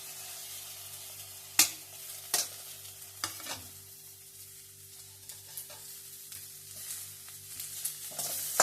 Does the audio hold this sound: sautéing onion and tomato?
yes